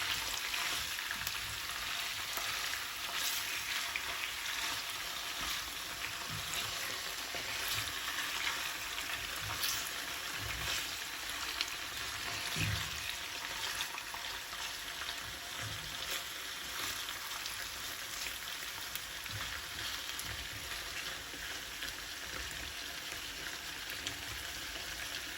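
Chicken and onions fry with a faint, continuous hiss over a long stretch, with occasional soft stirring knocks and no voices.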